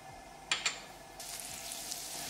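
Butter melting with olive oil in a frying pan gives a soft, quiet sizzle near the mic, opening with two sharp clicks and then swelling into a brighter, steady hiss.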